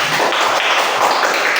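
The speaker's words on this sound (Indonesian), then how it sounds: "Beri tepuk tangan untuk kelompok 1" A classroom group claps for group 1 after its presentation, a steady and fairly loud patter of hands with no clear pauses.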